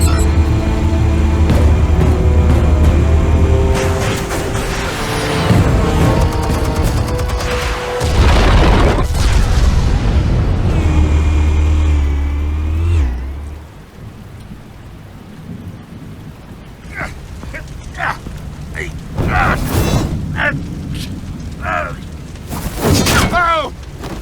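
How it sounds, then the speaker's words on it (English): Heavy booming blasts from an explosion in the Batman Telltale video game roll loudly, then fade into quieter scattered impacts and voices. "Explosives armed. Fire when ready."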